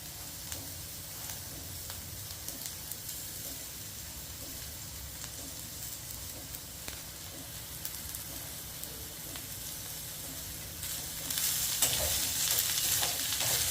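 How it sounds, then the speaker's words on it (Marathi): Steady hiss and crackle of vegetables for hakka noodles stir-frying in a hot iron wok, with occasional clinks of stirring, growing louder and brighter near the end. "आता आपण सगळ्याच भाज्या ॲड करून टाकू म्हणजे छान परततील"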